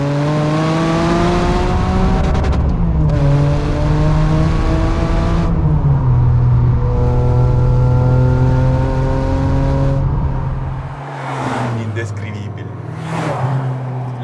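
A Ferrari 550 Maranello V12 with manual gearbox revs loudly and continuously, climbing in pitch, dropping at each gear change, then climbing again. Brief bursts of roaring acceleration come near the end, and a voice talks over the engine.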